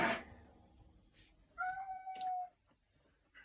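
A domestic cat meows indoors, one clear drawn-out cry at moderate distance, with a few faint rustles and small sounds around it and no talking.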